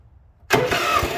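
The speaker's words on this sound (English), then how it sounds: "the starter's kicking out thinking that it has already fired and it hasn't" An International Harvester 4130 skid steer engine cranks on its starter, which cuts in abruptly after half a second of near silence and then grinds loudly and close for a brief moment without catching.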